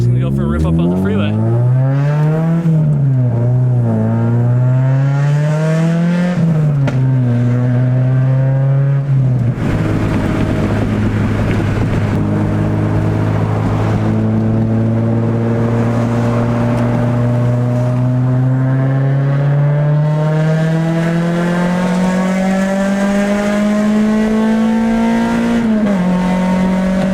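A K24-swapped EK Honda Civic hatch accelerates hard up a freeway, its engine note climbing steadily through several gears with brief dips at each shift, loud and close from inside the cabin.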